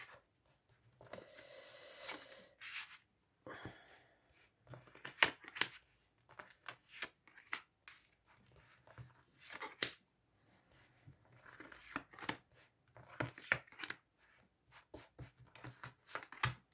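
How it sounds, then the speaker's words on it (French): Tarot cards spread out by hand for a reading, a series of soft close rustles, slides and light taps in irregular bursts, quiet, no talking. "je vais étaler les cartes"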